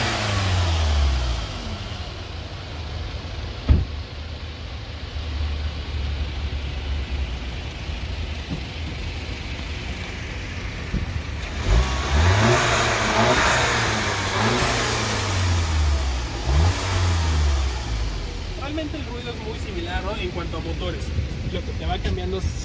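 A 2020 Cupra or Golf GTI hatchback revs through its rear exhaust, with rising and falling engine sweeps over a steady idle and occasional voices.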